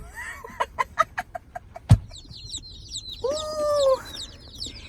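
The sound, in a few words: hatchery chicks peeping in shipping box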